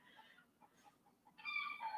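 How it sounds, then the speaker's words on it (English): A few soft, short clucks from hens, then a louder, drawn-out chicken call rising up nearby. "My chickens are making noises."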